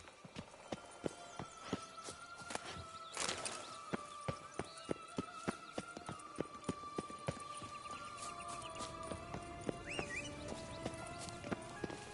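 Roach, the horse from The Witcher 3, gallops with a fast, steady clip-clop of hooves, close and even throughout, with a brief whinny-like swell near the start and tonal game ambience underneath.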